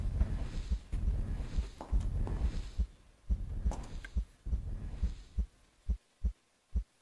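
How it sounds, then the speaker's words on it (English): A heartbeat sound effect in the Little Big Adventure video game, a steady double-thump pulse repeating about once a second. Dense music and noise sit under the beats at first, then the thumps ring out alone and clear. "that's that heartbeat noise I was hearing"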